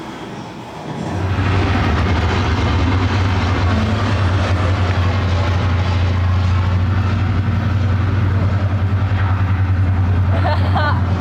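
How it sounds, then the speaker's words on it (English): A replica B-17 bomber, the Memphis Belle, takes off at a movie-park special effects show, its piston engines building to a loud, steady, droning roar that holds throughout. "You have just seen the Memphis Belle take off for its 25th and final mission"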